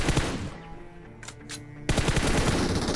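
Close-range machine gun fire in PUBG Mobile: loud rapid bursts open the moment, a brief lull follows with two short sharp shots, then another dense sustained burst of automatic fire.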